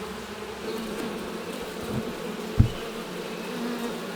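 Steady low buzzing of many honey bees on a hive frame close by, a dense humming swarm with a brief knock partway through.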